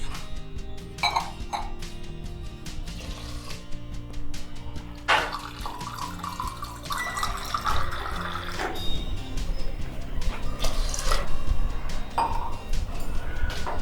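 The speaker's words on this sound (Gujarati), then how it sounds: "5 વાડકી તેમાં પાણી નાખવાનું છે" Water poured into a pressure cooker holding millet and moong dal makes a steady, fairly loud rushing splash, with a few clinks of the vessel along the way and no one talking.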